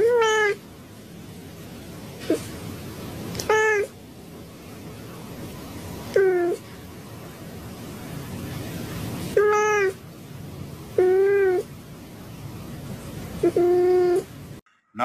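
A cat held in a jail meows repeatedly, about six distinct drawn-out cries spaced a few seconds apart, loud and close over a faint murmuring background.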